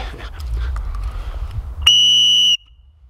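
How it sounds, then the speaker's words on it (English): A single loud, piercing whistle blast rings out steadily for under a second, cutting off sharply after some low background rumble. "Got the whistle here. I'm gonna really blast it tonight."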